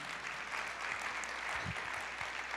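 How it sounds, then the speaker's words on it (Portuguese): A church congregation applauds during a Portuguese-language revival service, a steady wash of many hands clapping at a moderate distance, fairly faint and continuous throughout. "Pode aplaudir ao Senhor."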